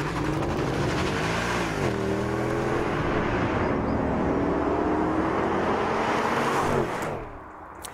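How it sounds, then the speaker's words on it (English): A Mercedes 500E and a CLS 63 AMG accelerate hard side by side in an impromptu drag race, engines roaring loud and close with rising pitch through gear changes before the noise drops off near the end. "we've organised an impromptu drag race"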